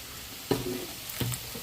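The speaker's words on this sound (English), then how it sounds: "This is all frying up, guys." Quiet sizzling of green tamale sauce frying in a pan, with two brief stirring scrapes over a steady low background hiss.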